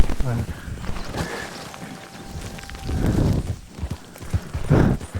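Horse hooves clip-clop steadily at a walking pace in Red Dead Redemption 2, close and moderately loud, with a rough outdoor game ambience and a faint voice in the background.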